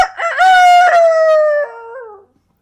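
A man imitates a rooster crowing with his voice, one loud, close, drawn-out cock-a-doodle-doo call that wavers and falls off at the end, with nothing else heard.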